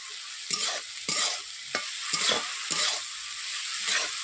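Yardlong beans, potato and soya chunks stir-fried with a little water in a pan, sizzling steadily with repeated scraping strokes of a spatula at an uneven rhythm.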